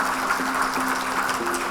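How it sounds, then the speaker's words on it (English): Brief burst of steady applause from an audience at a book launch, dense clapping with a faint sustained tone beneath. "a warm round of applause"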